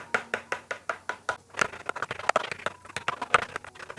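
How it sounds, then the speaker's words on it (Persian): A fork pricks rolled sugar cookie dough on a tray, a run of quick, evenly spaced light taps that becomes denser and more irregular, close and quiet, with no speech. "خب من یه سری هم از این ور چنگال میزنم"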